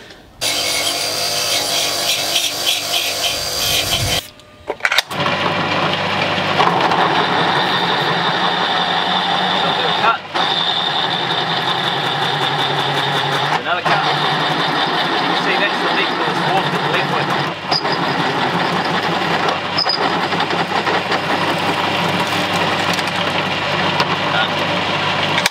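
Power tools cut and drill fittings for a boat rudder shaft replacement: a loud, steady mechanical whine runs nearly throughout, broken by a brief pause early on and a few short dips, with no talk.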